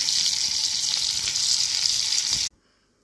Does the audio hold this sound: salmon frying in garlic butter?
yes